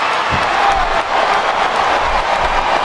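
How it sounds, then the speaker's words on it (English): A video-game arena crowd in WWE SmackDown vs Raw 2007 keeps up a loud, steady roar of chanting and cheering, dense and continuous throughout. "And the crowd has come alive tonight with a chant directed at the superstars in the ring."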